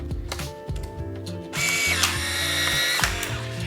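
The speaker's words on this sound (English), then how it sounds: "Now you might have heard it do like a click sound." A Polaroid Now instant camera snaps a photo: a few soft mechanical clicks, then a loud, steady motorized whirring that runs to the end, close to the microphone.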